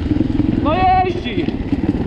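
A new pit bike motorcycle's engine runs with a steady, throbbing mid-pitched drone, heard close and mostly under a loud, excited voice speaking Polish.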